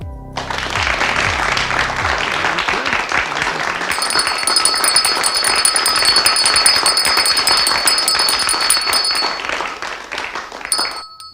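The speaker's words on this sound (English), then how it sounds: "you're not going to talk over the applause" Studio audience applause on a talk show rolls on steadily and loudly for several seconds, with bright ringing chime-like tones layered over the clapping through the middle before it fades out.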